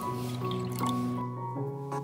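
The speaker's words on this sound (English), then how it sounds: "At first, fill the container with water" Water is poured into a glass bowl, a soft continuous liquid fill with light dripping and splashing, close and moderately loud, with no talk.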